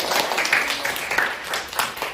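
Classroom applause after a student gives a correct answer, a burst of many hands clapping fairly loud and close, continuing steadily for about two seconds.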